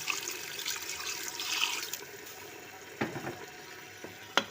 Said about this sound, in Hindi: अब आपने जितनी भी ग्रेवी रखनी है, आप उतना पानी डाल दें।